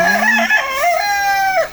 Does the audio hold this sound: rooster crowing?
yes